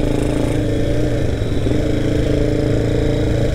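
A KTM Duke 390 motorcycle engine runs steadily while being ridden, giving a continuous, loud mid-pitched drone with slight shifts in revs and no talking over it.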